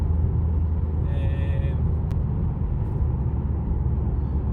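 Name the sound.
Ford C-Max 2.0 TDCi driving on the road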